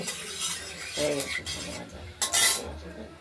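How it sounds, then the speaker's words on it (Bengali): Dry red chilli, bay leaf and cumin fry in oil in a pan as a spatula scrapes and clinks against the metal in uneven strokes, with a low sizzle underneath, close and fairly quiet. "এই ফোড়নটাকে একটু ভাজা ভাজা করে নেব।"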